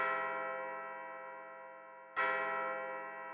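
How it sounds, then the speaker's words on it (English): A bell tolls twice in the mystery RPG LiEat III, each strike rich and ringing with a long, slowly fading resonance, the second following about two seconds after the first. "Is that the bell?"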